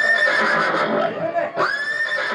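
Horse neighing loudly and close, a long whinny that breaks briefly and resumes, with some voice-like energy mixed in, from a Gujarati comedy skit about horses.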